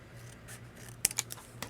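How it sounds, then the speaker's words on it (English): Scissors cutting the top piece off a Christmas card, a few crisp close snips with a faint low hum underneath and no talk. "now I'm going to cut that top piece off"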